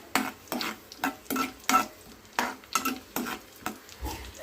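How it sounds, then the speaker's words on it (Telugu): Half a cup of cashew nuts frying over a low flame, with a regular rhythm of spatula scrapes and stirring strokes about every half second over a faint sizzle, close by. "వేసి వాటిని లో ఫ్లేమ్ మీద కొంచెం బ్రౌన్ కలర్ వచ్చే వరకు బాగా ఫ్రై చేసుకోండి"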